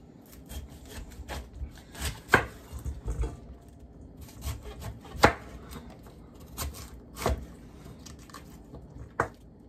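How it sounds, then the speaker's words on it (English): Knife chopping cauliflower into larger bite-sized pieces on a board, with irregular close, crisp cuts and thuds spaced unevenly through the clip, no talking. "we're going to chop it up into somewhat larger bite-sized pieces so we can get a good caramelization on it in the pan"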